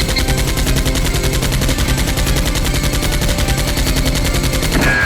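Rapid, continuous bursts of gunfire rattle without pause in a Nerf gun battle, loud and dense like machine-gun fire throughout, with no talk.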